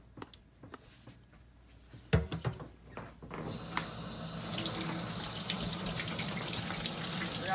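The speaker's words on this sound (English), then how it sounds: "We wash your hands." Clicks and a clunk come first, then a tap opens at a sink and water runs in a steady, loud gush for hand-washing, close by and continuing to the end.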